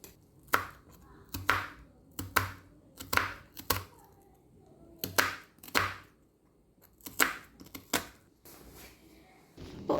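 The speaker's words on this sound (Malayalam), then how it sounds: "ഉള്ളി നന്നായിട്ട് നമുക്കൊന്ന് ചോപ്പ് ചെയ്ത് കൊടുക്കണം സ്ക്വയർ പീസായിട്ടാണ് നമുക്ക് കിട്ടേണ്ടത്" An onion being chopped into square pieces on a cutting board: bursts of sharp knife knocks in quick uneven runs with short pauses between, close and fairly loud, no voices.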